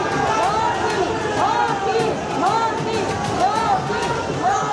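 A large crowd gathered for Yogi Adityanath's road show in Darbhanga fills the air with a dense, steady roar of chatter and rising shouts, loud and continuous with no single voice standing out.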